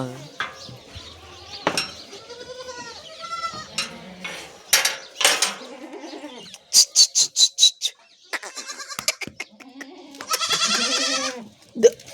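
Several short goat bleats stand out in an outdoor setting, mixed with people talking and some clattering, with a burst of rapid repeated calls midway.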